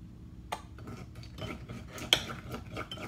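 A spoon scooping thick sugarcane molasses into hair conditioner, giving soft metallic clinks and scraping against a container, with a sharper tap near the end; quiet and close.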